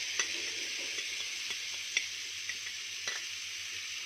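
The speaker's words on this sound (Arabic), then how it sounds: "البصل على الفلفل بقى على الطماطم هقوم مشوحاها تشويحه حلوه في الطاسه بتاعتي" Onion, pepper and tomato sizzle steadily in ghee in a frying pan, a soft continuous hiss with light taps of a spoon stirring, close by and with no talk.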